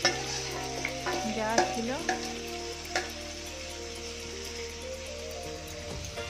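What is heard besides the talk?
marinated chicken being stir-fried with spices for biryani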